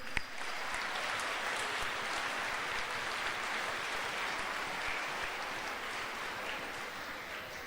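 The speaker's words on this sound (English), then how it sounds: "a round of applause to you" Sustained applause from a school assembly audience for performers at a Chinese New Year assembly, a dense, steady wash of many hands clapping that holds at an even level throughout with no talk over it.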